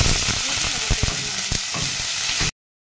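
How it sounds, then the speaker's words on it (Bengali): Sliced ridge gourd and potato strips sizzle loudly in hot oil in a pan, a steady crackling hiss with occasional stirring knocks, ending abruptly in silence. "এবার আমি এগুলোকে একটু ভেজে নেব।"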